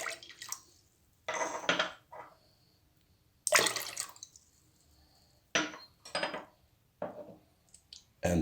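Lemon juice poured in several separate bursts into a jar for pickled green tomatoes, close splashy liquid pours with short silences between them, with no voices.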